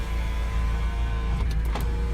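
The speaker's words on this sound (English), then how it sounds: "Now, look at my passenger window, how quick it goes up and down." A quick electric passenger window on a second-generation Mazda Miata runs up and down: a steady motor whine over an idling engine, ending in a few sharp thumps as the glass stops.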